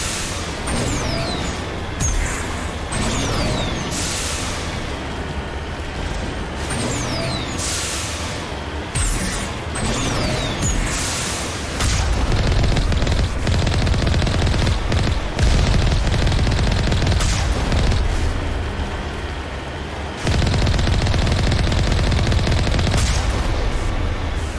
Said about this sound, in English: Oh, they're already shooting at us.